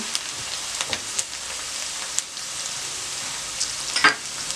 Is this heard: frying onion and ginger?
yes